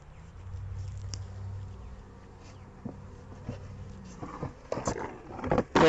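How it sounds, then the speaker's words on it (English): Honey bees buzzing in a steady, fairly close drone while a Langstroth nuc is moved into a Layens hive, with a cluster of bees gathered near the bottom of the hive; some clicks and handling knocks toward the end. "there is a cluster of bees"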